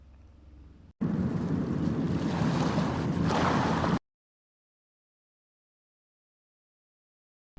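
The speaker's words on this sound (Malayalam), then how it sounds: "ഈ ഒരു സമയത്ത് നല്ല തിരമാലകളൊക്കെ ഉണ്ടായിരുന്നു കേട്ടോ" Sea waves surge and roar at Beypore beach, Kozhikode, a loud, steady wash of surf lasting about three seconds after a quieter opening rumble, then cutting off abruptly.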